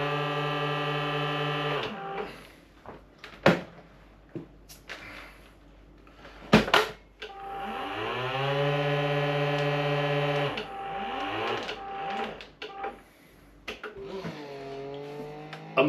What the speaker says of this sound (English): There you go, it's vacuum packing up now.